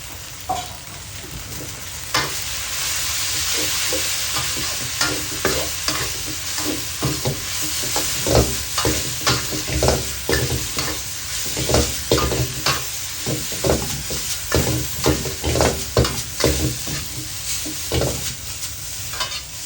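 Pork is stir-fried with holy basil and kaffir lime leaves in a hot pan, a steady sizzle under repeated scraping and clanking strokes of the spatula, close and loud throughout.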